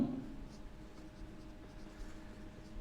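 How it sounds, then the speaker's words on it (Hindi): Someone writes a question on a classroom board, producing soft, continuous scratchy strokes against a faint room background. "मैं प्रश्न लिखता हूं"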